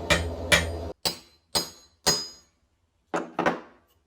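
Sharp, ringing blacksmith's hammer strikes spreading metal land one after another, about seven blows in a loose rhythm with a short pause before a final quick pair.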